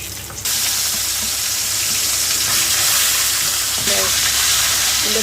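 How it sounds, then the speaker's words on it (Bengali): Fish sizzling steadily in hot oil in a pan while being cooked for a yogurt fish curry, a continuous broadband hiss with a brief spatter and faint clinks near the end. "আমার মাছ ভাজা হয়ে গেছে, এবার আমি তুলে নিচ্ছি"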